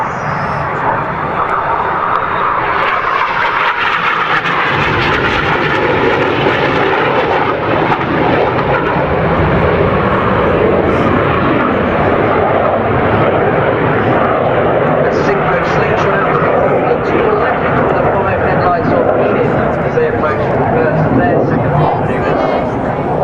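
RAF Red Arrows jets fly in formation at the Farnborough International Airshow 2012, their engines producing a loud, sustained roar that swells and holds, while an announcer talks over it.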